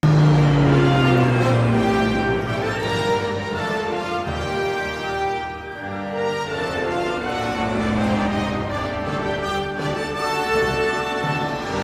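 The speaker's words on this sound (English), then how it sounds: "borrows the helicopter arrival music from the first movie for the plane arrival music in the third movie" Orchestral Jurassic Park helicopter arrival music from the first movie, reused for the plane arrival in the third, with swelling strings and brass playing a broad, sustained melody at full, steady volume without any talk.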